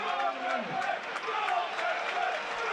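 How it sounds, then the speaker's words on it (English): Football stadium crowd at a Premier League match between Burnley and Newcastle, a broad roar of many voices swelling with rising excitement, dense and continuous from start to finish. "The crowd getting excited about something."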